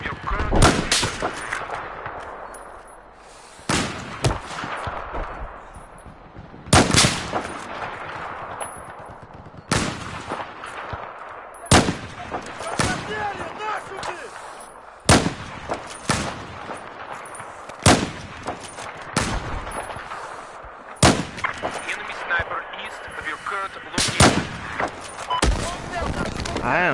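Sniper rifle gunfire in Battlefield 4, including a Mosin-Nagant, fired as loud sharp cracks at irregular intervals through a busy battlefield soundscape with other distant shots and explosions, while a voice talks intermittently.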